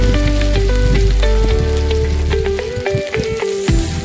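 Spice paste of ginger and ground cumin sizzles steadily in a pan over low gas, with stirring sounds mixed in as the paste is fried; close, continuous frying throughout.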